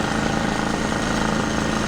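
A 1997 Polaris Sportsman 500 ATV engine with a freshly fixed carburetor running steadily with the choke off, a loud, close, even chugging drone with rattling from the partly disassembled frame.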